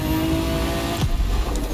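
A Nissan Skyline GTR R34 accelerates in The Crew 2, its engine droning steadily and then dipping sharply as it shifts.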